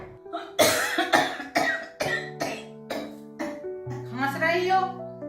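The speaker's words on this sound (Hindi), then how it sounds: "खांस रही हो तो क्या टीबी हो गई?" A woman coughs in a dramatic Hindi family scene, with several short, rough coughs in a row heard up close over background music.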